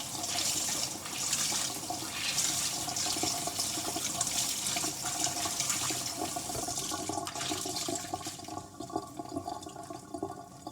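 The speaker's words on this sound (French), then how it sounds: "On va rincer la courge et en profiter pour sortir toutes les graines qui sont à l'intérieur." Running water from a tap rinsing a luffa gourd to wash it and flush out its seeds: a continuous close splashing and gushing that fades slightly toward the end, with no talk.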